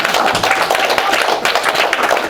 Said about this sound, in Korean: 박수 좀 해야죠.